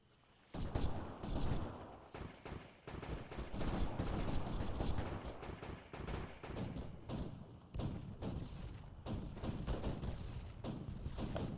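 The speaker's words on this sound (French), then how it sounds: "On reçoit des tirs, on reçoit des tirs." Sustained gunfire in ArmA 3 rattles through a firefight: rapid overlapping bursts and sharp single shots crack in irregular clusters with heavy thuds, loud and continuous for several seconds.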